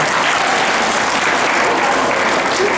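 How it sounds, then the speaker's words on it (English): Audience at a middle school presentation bursts into steady, dense applause, a loud continuous wash of many hands clapping throughout with no pauses. "Let's give him a big round of applause."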